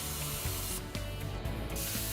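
A Powermax SYNC plasma torch cuts through a metal plate, a steady hissing spray with a brief louder rushing burst midway, close and alone without talk.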